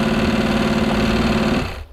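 A car engine running without oil, either a BMW or a Porsche, revs hard against the brake with a loud, steady, strained drone and metallic rattle, then drops off near the end.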